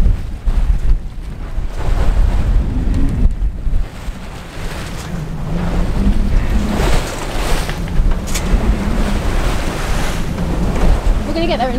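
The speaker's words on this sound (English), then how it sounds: "The waves are quite large, but there's also kind of chop from the wind." Large sea waves and wind-driven chop wash against a sailing boat on open water, with steady heavy wind buffeting the microphone and surges of splashing spray throughout.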